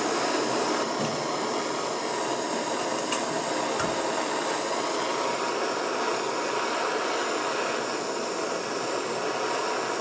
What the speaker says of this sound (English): I have my blowtorch here that I will light up